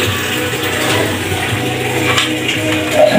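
Heavy-duty pressure washer switched on, its steady hiss of spraying water running continuously with a rushing, splashing texture and a slight swell near the end; no talking.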